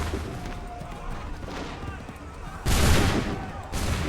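Musket volleys in Assassin's Creed III, a rolling crackle of massed shots bursting loud and near, then another salvo, over ongoing battle noise.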